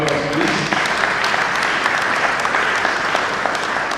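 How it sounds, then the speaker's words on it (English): At a bar association law week session in Benin, a hall gives a standing round of applause, dense steady clapping ringing out loudly throughout, with a brief voice at the start. "There is standing round of applause, please."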